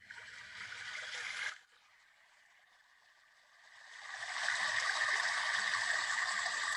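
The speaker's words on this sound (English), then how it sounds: "That's the river flowing." Recorded river flowing from a relaxation app, a steady hiss of rushing water that drops out briefly, then swells back and holds at a continuous, moderately loud level.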